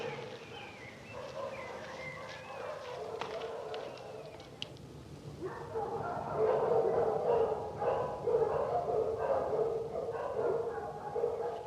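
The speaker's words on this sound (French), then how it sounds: "Ces chiens, il y en a combien?" Several dogs barking at a distance, repeated yapping and bow-wows that grow louder and busier partway through, against quiet background ambience.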